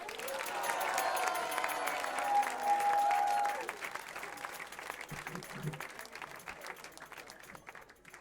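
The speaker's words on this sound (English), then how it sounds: "Let's have another round of applause for Madhava Prabhu" A kirtan audience gives a round of applause for Madhava Prabhu, dense crowd clapping that holds loud, while a sustained musical tone rings through the first few seconds. The clapping then thins and fades, with a voice faintly heard.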